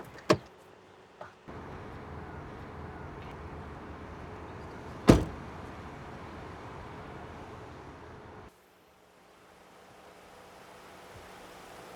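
A car door thumps sharply during a police traffic stop as the engine is switched off and the driver steps out, with an earlier thud, a steady idling rumble that abruptly stops, then near silence.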